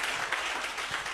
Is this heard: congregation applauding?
yes